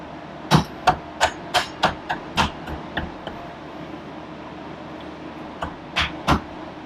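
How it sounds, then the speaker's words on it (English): A series of sharp metallic knocks and taps, about ten in quick succession then two more after a pause, as an axle is pushed into the wheel of a 2013 Kawasaki 300 motorcycle, close and distinct. "Stab our axle in."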